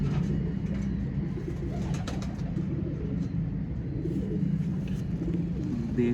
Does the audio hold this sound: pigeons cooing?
yes